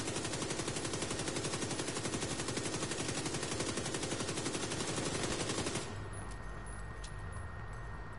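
Loud, rapid automatic gunfire from a video game rattles on without a break for about six seconds, then cuts off and leaves a quieter hum of game background.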